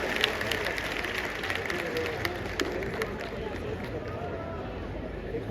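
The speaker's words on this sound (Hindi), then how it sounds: "आपने मेरे स्वागत सम्मान में जो घनघोर तालियां बजाई हैं" An audience at a poetry recital claps in thick, sustained applause that stays steady from start to finish, with faint crowd murmur mixed in.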